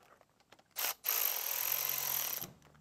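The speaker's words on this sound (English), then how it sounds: "So now we're tightening up our bolts." A power tool drives and tightens bolts on the poppet valve cover of a Mercury Optimax outboard motor: a short whir, a brief pause, then one longer steady close buzz that stops abruptly, with no speech.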